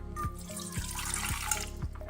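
Water is poured into a bowl for an Easter colomba dough, a steady close splashing stream with faint musical tones beneath and no talking.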